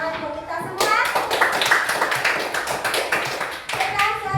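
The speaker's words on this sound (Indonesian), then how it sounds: "Sekali lagi tepuk tangan untuk kita semua." Children in a classroom clap together in a sustained round of applause, dense and steady, loud and close, after a brief moment of quiet.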